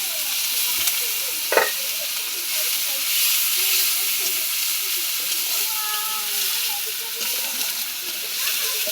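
Onion, garlic, ginger paste, cumin and coriander powder sizzle in hot oil for a fish curry. A steady, close frying hiss fills the whole clip with occasional small crackles, and faint voices sit underneath.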